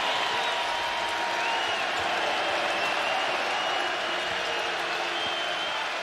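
A basketball arena crowd stands and roars during a Big 12 men's game between BYU and Cincinnati, a dense sustained wash of cheering and applause that stays loud and unbroken throughout.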